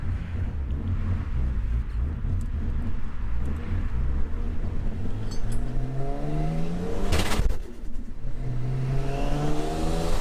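Ford Falcon AU turbo ute engine revving hard with a slipping clutch, a loud, steady roar with rising and falling harmonic sweeps and one sharp burst of noise partway through, with no voices.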